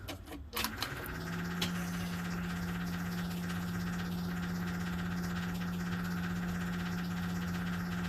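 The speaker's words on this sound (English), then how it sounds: "As you can see, the vehicle started." Fat Truck amphibious vehicle on a cold start: a brief cranking burst, then a steady, low engine idle droning on evenly and fairly quietly with no voices.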